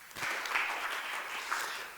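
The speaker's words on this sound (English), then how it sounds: "Excellent applause for an excellent presentation." Steady applause from a conference audience after a presentation at a congress centre in Kraków, a dense even wash of many hands clapping throughout with no talk over it.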